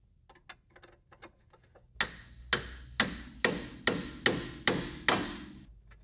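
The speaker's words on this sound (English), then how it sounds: "We'll put that pickle fork to work first, separating our tie rod ends." A pickle fork is hammered to separate tie rod ends on a Pontiac Firebird suspension, with light taps first and then eight sharp, evenly spaced metallic strikes ringing close up.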